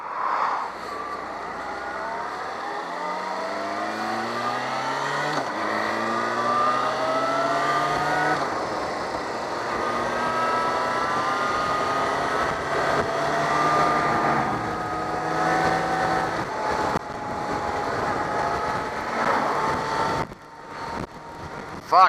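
A Yamaha FZ6 four-cylinder motorcycle engine runs while riding, with smooth rising and falling revs through gear changes that drone steadily and loud up close for the whole stretch.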